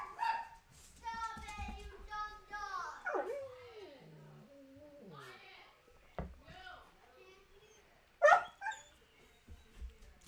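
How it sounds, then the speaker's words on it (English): A dog barks, yips and whimpers in an agitated, high-pitched string of cries at home, loud and close, with a sharp bark near the end and no talk over it. "The dog is freaking out."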